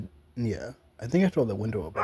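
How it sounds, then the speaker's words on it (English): A dog barking outdoors, heard through an open window, with a few short yips and barks sitting under a person talking close by. "You might be able to hear that. That was a dog barking."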